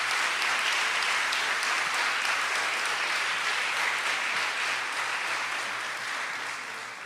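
An audience gives sustained applause to Carlos Fernando Chamorro and his team at an anniversary celebration in Nicaragua, with thick, even clapping that eases slightly toward the end.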